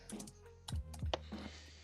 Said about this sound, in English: Might need a keyboard now.